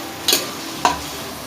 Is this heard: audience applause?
no